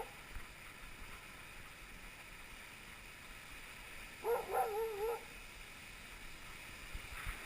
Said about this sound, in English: Got a good looking dog team here.